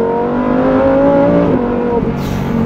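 Lamborghini Huracan Tecnica V10 engine revving loud and close, a steady high-pitched howl that climbs and then drops back briefly near the end, with no talking.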